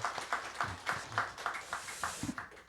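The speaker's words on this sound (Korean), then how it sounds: "우리 큰 감사의 박수 드리도록 하겠습니다" Church congregation giving thanks with rhythmic clapping, evenly spaced claps repeating about three times a second, moderately close and fairly faint over the room's ambience.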